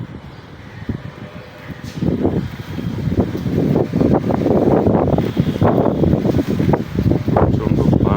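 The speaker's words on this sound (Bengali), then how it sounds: "প্রচণ্ড বাতাস," Strong wind roars against the microphone, starting quieter and then buffeting loudly and continuously in gusts that build after the first couple of seconds.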